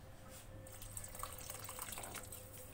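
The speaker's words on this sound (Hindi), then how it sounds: "थोड़ा सा और पानी ऐड करेंगे" A small extra splash of water runs into a pot of soaked rice and chickpeas for chickpea biryani, a soft, close trickle with a few drips and no talking.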